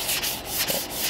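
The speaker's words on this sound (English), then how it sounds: "you can actually feel this texture go away as you're sanding it." Hand sanding across a textured surface on a hot rod interior: close, rhythmic rasping strokes, roughly five back-and-forth passes in quick succession, heard alone.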